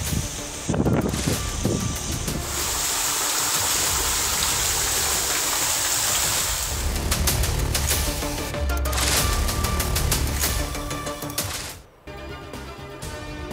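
Heavy stormy rain floods Gwadar city, a loud, continuous rushing roar of downpour and running water that shifts in intensity before cutting off abruptly near the end.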